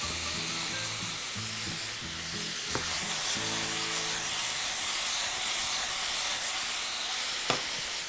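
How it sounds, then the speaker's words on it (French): Parsnips seasoned with pepper and salt sizzle steadily in a hot pan as they begin to caramelize, a continuous close hiss with a low tonal hum underneath and a couple of faint clicks. "Donc là, les panais ont légèrement commencé à caraméliser."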